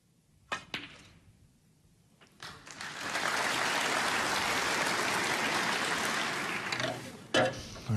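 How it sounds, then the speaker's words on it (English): Warm audience applause at a German Masters snooker semi-final swells after a couple of sharp knocks, holding steady for several seconds before trailing off with a few final taps. "he got a clap for it"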